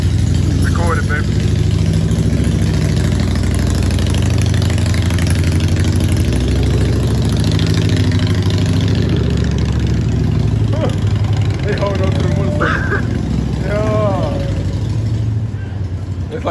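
Several motorcycle engines idle and rumble loudly and steadily at a late-night street meetup, with voices and chatter from a crowd mixed in under the engine noise.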